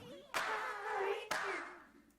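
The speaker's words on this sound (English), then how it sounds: "His claps sound good." Two crisp, reverb-drenched hand claps sound a second apart in a psychedelic music mix, each ringing out with a long washy tail.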